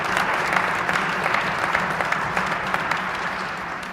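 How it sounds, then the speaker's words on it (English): Crowd applauding a volleyball team as it is sent off to a national championship, a steady, dense wash of clapping at full strength that holds evenly throughout. "So let's give them a round of applause."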